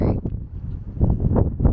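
Strong wind buffets the microphone in low, rumbling gusts, with a faint voice underneath.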